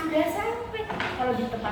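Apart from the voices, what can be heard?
No everyday noise stands out behind the speech.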